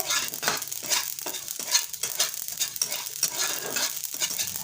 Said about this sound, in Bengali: কড়াইতে দিয়ে অনবরত নাড়তে থাকতে হবে তাহলে মশলাটা খুব সুন্দর ভাজা হবে অলরেডি দেখো আমার সরিষা ফুটতে শুরু করেছে